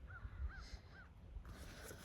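Faint outdoor birdsong, three short repeated chirps in an even rhythm, set against low rumbling background noise, with a brief rustle near the end.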